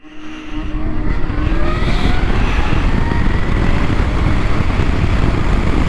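A Zero FXS electric motorcycle in sport mode pulls away hard from a standstill, its motor whine climbing steadily in pitch over loud, constant rushing wind and road noise, with no voices.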